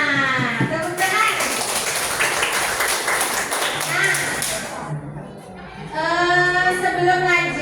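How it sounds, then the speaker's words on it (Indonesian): Classroom applause during a guessing-game lesson, a burst of hand clapping mixed with children's voices and chatter, followed by a teacher speaking. "Tepuk tangan."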